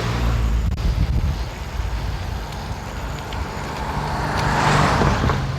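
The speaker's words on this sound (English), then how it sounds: "car just avoided me because I was avoiding a hump" A car passes on a road in Uganda, a steady close engine and tyre roar that swells slightly louder toward the end, with no voices.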